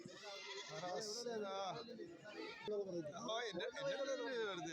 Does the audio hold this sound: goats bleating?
yes